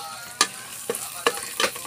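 Adobong chicken sizzles steadily in a pan while a utensil stirs it, with four sharp scraping strokes spaced evenly over the constant frying hiss.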